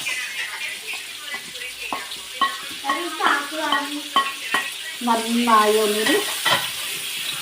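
Onions sauté in the same pan just used to fry fish, as masala for Kerala fish biryani, with a soft sizzle and repeated stirring scrapes while someone talks over the cooking.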